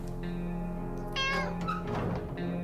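A cat in the survival game 60 Seconds meows once, a short clear cry followed by a soft thump and rustling, close and moderately loud over quiet game ambience.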